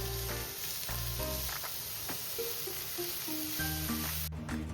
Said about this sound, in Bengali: এবার আমি পেঁপেটা ভালো করে একটু ভেজে নেব।